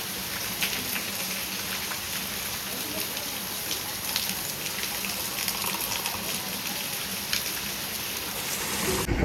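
Steady rain pours down in Chalala, a dense, even hiss of drops hitting surfaces that stays constant and close throughout, swelling slightly louder at the very end.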